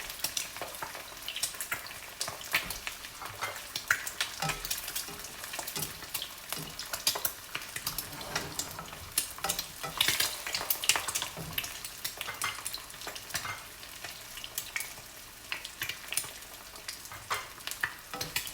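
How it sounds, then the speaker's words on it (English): Eggs fry in hot oil for crispy fried eggs, a steady close crackle and sizzle with frequent sharp pops and spatters throughout and no talk. "just start frying until the edges of the white become crispy at the edges"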